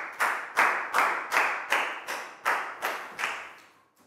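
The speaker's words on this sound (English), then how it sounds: "Big round of applause for Pangpon" Students in a Year 4 maths class clap together in a steady, even rhythm, about ten sharp unison claps in four seconds that fade slightly at the close.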